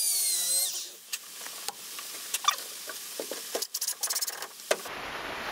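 A power drill drives 2.5-inch stainless steel screws into mahogany cockpit deck framing during a boat restoration. Brief, uneven whirring and ticking bursts sound close by, with no voices.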